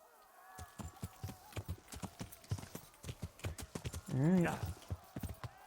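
Horse hooves clip-clop in a steady, brisk rhythm in a video game while riding out of Skalitz. A short whinny breaks in near the end, and someone speaks briefly over the hoofbeats.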